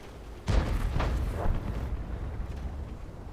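Tank cannon fire in World of Tanks from an American T37 light tank, a single loud boom followed by two or three fading echoing reports and a low rumbling tail.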